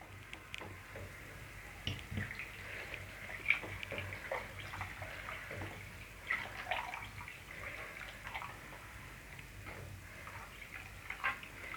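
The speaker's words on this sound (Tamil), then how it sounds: "இந்த குழம்புக்கு தேவையான அளவு தண்ணி சேர்த்துப்போம்." Water pours steadily into a pot of garlic fish kulambu (Tamil fish curry). It makes a soft, continuous splashing trickle with small drips and clicks, faint and alone.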